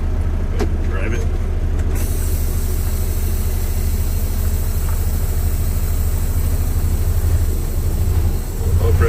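A 2017 Kenworth T800 truck engine running on a cold day, a loud steady low diesel drone close by with a brief air hiss at the start and little change throughout.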